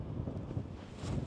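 Wind on an Irish links golf course buffets the microphone in a steady low rumbling roar, a short continuous gusty whoosh with no voices.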